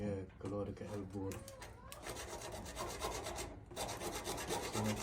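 A leaking 15mm ABS pipe is cut by hand, giving close, repeated rasping saw strokes in a steady back-and-forth rhythm, with someone talking intermittently over the cutting.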